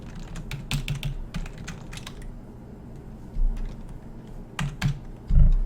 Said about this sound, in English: My keyboard is literally like glitching out right now.